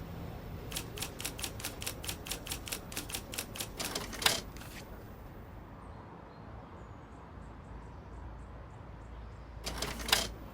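Rapid keyboard typing clatters in a short burst in the murder mystery game Murder in the Alps, ending in a bright bell-like ding, then a long quiet stretch with faint chirps before a second ding.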